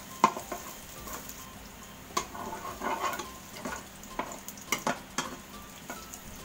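Pork adobo ingredients sautéing in a pan until golden brown, a steady sizzling fry with scattered pops and crackles spread through the whole clip, heard alone.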